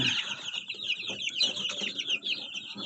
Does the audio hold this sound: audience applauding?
no